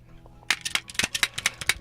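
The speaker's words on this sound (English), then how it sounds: "This is the sound of an ordinary person like you trying to perfectly staple a pile of papers for work." A stapler clacking repeatedly through a pile of work papers, a rapid series of sharp, close snaps and crunches after a brief quiet start, with no voices.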